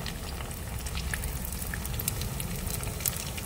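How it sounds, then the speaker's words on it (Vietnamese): Vegetarian spring rolls crackle and bubble in hot oil, a dense, steady sizzle with scattered sharper pops throughout, close and fairly loud with no talking. "Dầu nó bắt đầu nóng rồi, mình cho vào nha"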